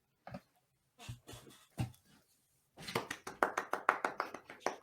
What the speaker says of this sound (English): What's with the fucking clapping?